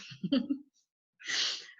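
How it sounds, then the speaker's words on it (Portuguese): Two short, breathy coughs from someone speaking Portuguese, a rough burst followed after a pause by a harsher, hissy one, close to the microphone in a quiet room. "acho que já tô tossindo direto aqui"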